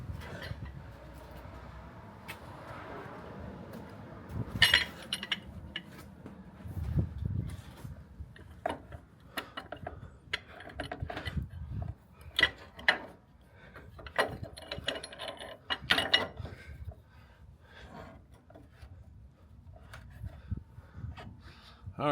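A pipe wrench turns a cab mount bushing bolt on a truck, making irregular ratcheting clicks and metallic creaks in short bursts at close range, with a few sharp knocks and some breathy effort sounds between them.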